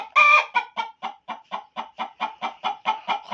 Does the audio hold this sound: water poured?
no